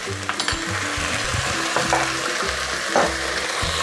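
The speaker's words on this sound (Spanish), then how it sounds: "Movemos para que el pimentón coja un poquito de sabor" Paprika sizzles in a hot pan with oil while being stirred, a steady frying hiss broken by repeated scraping strokes, close and fairly loud with no talking; sweet smoked pimentón de la Vera, cayenne and bay leaf for patatas a la riojana with chorizo.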